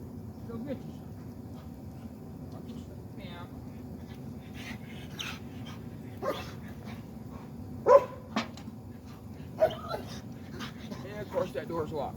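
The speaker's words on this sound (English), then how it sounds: "Don't mind that dog in the background." A dog in the background barks and whimpers in short, scattered outbursts while someone works nearby on a cold scrap job, the yelps rising sharply above a steady low rumble.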